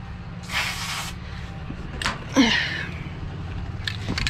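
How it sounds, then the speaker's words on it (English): Aerosol lubricant sprayed into the slide track of a truck bed slide, a short hissing burst followed by quieter clicks and a brief second spray. "I'm just going to spray inside that track"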